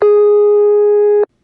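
A telephone ringback tone from a 1970s exchange on a Greenville, North Carolina coin phone line: one steady, buzzy electronic tone lasting just over a second, loud and clean, then silence.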